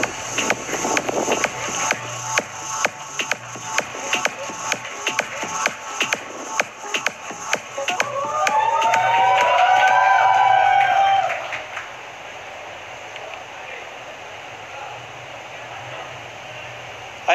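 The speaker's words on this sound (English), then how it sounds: "So let's greet him with a big round of applause." Applause with scattered cheers rises from an audience at the Vivo Z1 Pro smartphone launch event, a steady patter of claps that gives way to a brief burst of louder cheering and whistling before fading to room hum.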